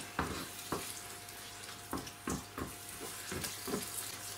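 Tomato-based bolognese sauce stirred in a pan, a low bubbling simmer with a steady faint sizzle broken by repeated wet scraping strokes of the spoon, close and fairly quiet.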